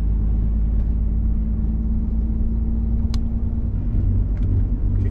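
Steady low rumble of a truck engine under way while still cold, droning continuously from the cab at moderate level with a faint tonal hum, no talk.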